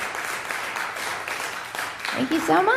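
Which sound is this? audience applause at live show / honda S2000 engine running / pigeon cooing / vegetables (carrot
audience applause at live show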